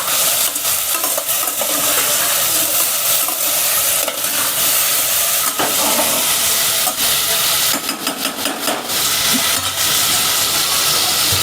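Jackfruit vegetable pieces fry in hot oil until golden, a steady loud sizzle and hiss with occasional stirring scrapes and crackle bursts, close up and without talk.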